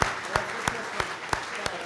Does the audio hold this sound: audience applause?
yes